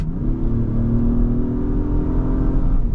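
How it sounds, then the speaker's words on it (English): Engine note of an Acura MDX Type S with a twin-scroll turbo, a steady mid-pitched harmonic drone heard from inside as the engine is revved and held, loud and continuous. "It sounds great, it revs great, it's a great engine"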